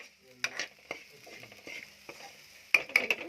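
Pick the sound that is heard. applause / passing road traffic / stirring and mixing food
stirring and mixing food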